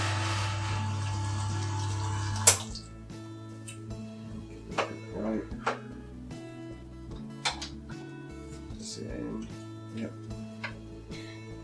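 Water rushes through a Flair 58 lever espresso maker in a steady hiss that stops abruptly, followed by light metallic clinks and handling noises while a person talks.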